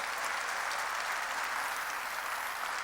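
Sustained applause from a church congregation, a steady dense wash of clapping throughout with no voices above it.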